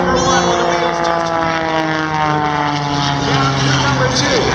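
The Oracle Challenger aerobatic propeller plane dives low at the 2014 Miramar Airshow, its engine a loud, steady droning roar with a slowly falling pitch as it passes, heard alongside crowd and announcer noise.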